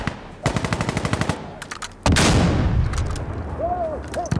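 Automatic gunfire rattles in rapid bursts in Insurgency Sandstorm on the Power Plant map, followed by a heavy blast and lingering rumble, loud and close.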